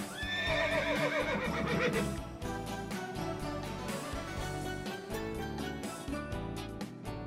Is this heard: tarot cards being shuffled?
no